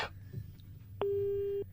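A telephone busy tone sounds after a phone is hung up: a single steady electronic beep lasting about half a second, following a faint click and quiet room noise.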